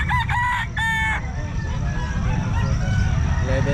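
A sweater white leg gamecock crows loudly at a Calumpit pet market, giving one strong, close crow at the start with trailing clucks afterward over a busy market murmur.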